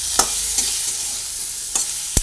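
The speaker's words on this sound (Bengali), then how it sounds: "আলুগুলো দিয়ে দেওয়ার পরে আলুগুলোকে একসঙ্গে ভেজে নিচ্ছি" Potato pieces frying together in a pan for a watermelon-rind curry, a soft sizzle broken by several sharp clicks and knocks of a spatula against the pan, with no talking.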